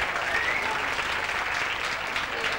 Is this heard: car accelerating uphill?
no